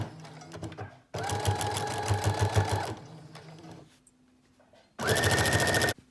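A sewing machine stitches a seam on a teddy bear jacket, running loud and close in two rapid, even bursts separated by quieter handling noise.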